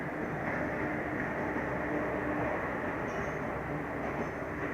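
Passenger train pulling in at platform 1 of Deoria Sadar railway station in India, a continuous broad rumble of wheels and carriages with faint brief squeals, steady and fairly close.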